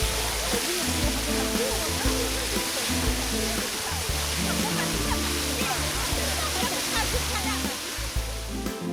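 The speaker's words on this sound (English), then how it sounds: "The most spacious square in the eastern part of the lower park is decorated with a large water cascade." Large water cascade fountain at Chess Mountain in the lower park of Peterhof, Russia, a steady rushing splash of falling water throughout, with a low hum and faint background voices beneath it.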